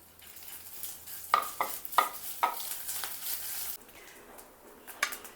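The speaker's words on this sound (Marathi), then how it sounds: "लसूण छान असा परतून घ्यायचा" Garlic and ginger sauté in a small amount of oil, a quiet sizzle under a series of quick spatula scrapes and taps against the pan, then the frying fades to near silence.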